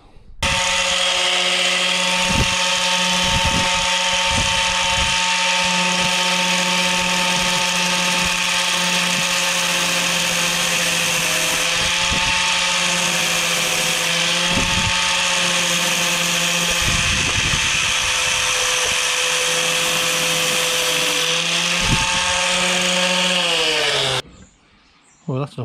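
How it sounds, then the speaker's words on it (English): A power drill bores out a plastic part on the sliding side door of an Iveco Daily van, a loud, continuous high whine held steady for about twenty-four seconds before stopping abruptly. "So out with the plastic one, drill that out, put my bolt in."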